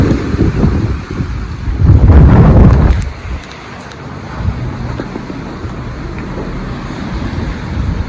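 Strong wind gusts across the hilltop of Analgadh fort, roaring and buffeting the microphone loudly with a heavy surge in the middle, then easing to a steadier rushing blow.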